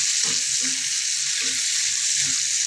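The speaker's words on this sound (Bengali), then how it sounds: "একটু জালে চিংড়া মাছটা ভেজে নিলাম।" Shrimp fry in hot oil in a home kitchen pan, a loud steady sizzling hiss with soft stirring knocks underneath and no talk.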